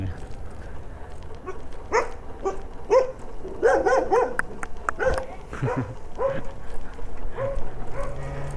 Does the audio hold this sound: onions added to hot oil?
no